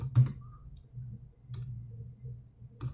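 Keys tapped on a computer keyboard to enter a command, a few sparse soft clicks close by over a low background hum.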